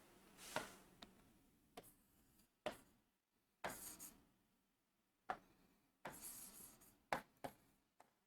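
A pen writes a note by hand, scratching out short bursts of close, faint strokes separated by pauses, with no voices over it.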